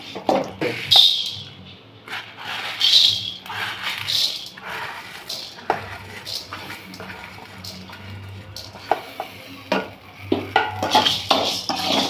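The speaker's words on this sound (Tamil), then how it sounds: "சேமியா வறுத்து எடுத்துக்கலாம்" Vermicelli roasts in a pan for milk payasam, heard as repeated metal scraping and clinking of a spoon against the pan, quiet between strokes with a faint sizzle.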